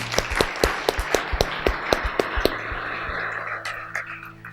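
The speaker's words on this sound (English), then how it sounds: "Give our 6 a round of applause" Small audience applauding for a group of six people at a talk, with sharp claps in a quick irregular patter that thins out and fades after about three seconds, leaving a faint room hum.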